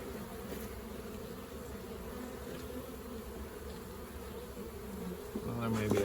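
Honeybees buzzing thickly around a colony being cut out of a house wall, a dense continuous drone close by, swelling slightly toward the end with faint handling noises.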